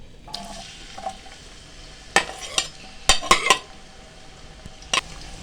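Chopped onions going into hot oil in a pot while cooking chicken mandi: a few sharp metal clinks and scrapes of a spoon against the pot over a soft, steady sizzle, with no talk.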